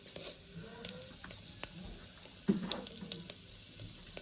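Cumin, urad dal, chana dal and mustard seeds frying in hot oil for a tempering, a faint, quiet sizzle with scattered small pops and crackles, no talk over it.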